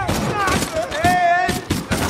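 Gunfire in the video game Borderlands 2, several sharp bursts of shots in quick succession, with a grenade and critical headshots, and a voice calling out between and over them.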